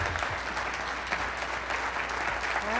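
Crowd applause following a 2007 Ward 3 city council candidates debate, a dense, steady wash of many hands clapping with no one speaking.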